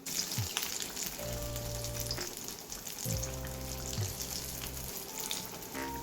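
Vadas deep-frying in hot oil, a steady close sizzle and bubble running throughout with a few brief clinks, no voices.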